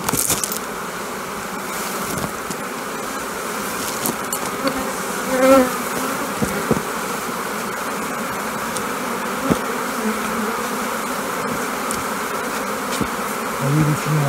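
Honeybees crowd a beehive entrance before overwintering, a continuous, close buzzing drone of many insects that holds steady throughout with a few brief louder passes near the hive.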